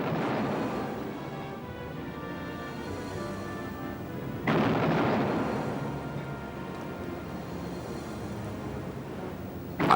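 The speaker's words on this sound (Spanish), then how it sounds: "los barcos británicos se acercaron primero a 4 millas y luego a 3 mientras disparaban salva tras salva" British warships fire naval artillery salvos at the battleship Bismarck, heard as booming blasts with long rolling rumbles, one heavy report midway and another starting at the end, loud and without speech.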